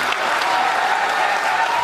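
Dense, steady applause from an audience at a Hindi kavi sammelan poetry gathering, a continuous wash of clapping filling the whole moment with no voice over it.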